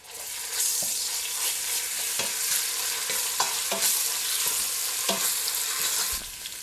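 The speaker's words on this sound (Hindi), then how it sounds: "उसी ऑयल में जिसमें हमने टमाटर और प्याज फ्राई किए थे, हम ये प्याज, टमाटर और हरी मिर्चें डाल देते हैं जो हमने पीसी थी।" A ground paste of onion, tomato and green chili fries in hot oil, with a loud, steady sizzle broken by repeated scraping stirs, and no voices.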